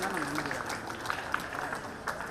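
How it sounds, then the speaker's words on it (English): An audience at a school Founder's Day celebration applauds, a steady wash of many hands clapping at moderate distance with voices murmuring underneath. "Encourage them with your claps."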